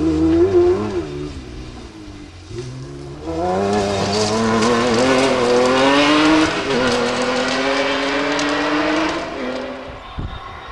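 Rally car passing close on a special stage with its engine running rough shortly before failing, a wavering, uneven engine note that swells loudly as it goes by, then fades with a brief tyre scrabble.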